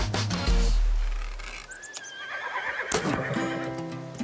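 A horse neighs in the backcountry with a loud whinny that rises and trails off, followed by a few hoof and harness sounds, then another shorter neigh near the end.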